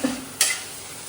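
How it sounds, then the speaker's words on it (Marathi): Spiced tempering hits hot oil for kande pohe, a short sudden sizzle burst after a faint clink, then a steady fading hiss. "आली फोडणी"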